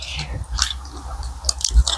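A bite of spicy McDonald's chicken is chewed close up, with soft wet chewing and a few crisp crunches in an irregular rhythm, and no talking.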